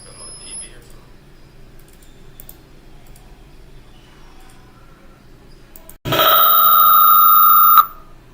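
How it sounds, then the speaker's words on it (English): Quiet background for several seconds, then a loud, steady electronic ringing tone cuts in and holds for about two seconds before stopping abruptly. "I do not like the ringing sound."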